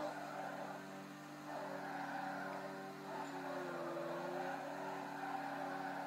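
Continuous engine drone with harmonic bands shifting in pitch as a car drifts through a whole corner in Need For Speed Carbon, steady and fairly loud throughout.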